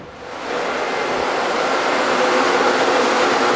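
Electric cooling fans on a Nissan S14 switch on and run, a steady broadband whoosh that swells within the first half second and then holds loud and even with no talking.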